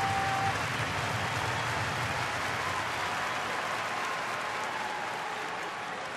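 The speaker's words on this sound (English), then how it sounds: "This big crowd ready to roar early today." Large crowd at a Pittsburgh at Milwaukee baseball game in 2011, a steady broad roar of many voices and applause filling the stadium at even loudness throughout, with no single voice standing out.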